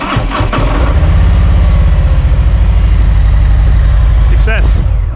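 A 2020 Harley-Davidson Road Glide Special motorcycle engine cranks briefly and fires up, then settles into a loud, close, steady lumpy idle.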